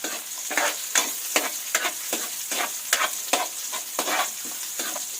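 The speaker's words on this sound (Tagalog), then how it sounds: "Isunod natin mga igan ang sibuyas. Ganun din, haluin din natin at saka antayin natin maluto." Onion being stirred and sautéed in a pan, a close hiss of frying broken by a regular series of scraping spatula strokes, about two per second, with no voices.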